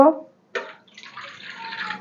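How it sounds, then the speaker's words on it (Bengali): Water is poured into a pot of washed red lentils before boiling. A short sound comes first, then a brief gap, then a close, steady splashing pour that continues to the end. "সিদ্ধর জন্য পানি দিব"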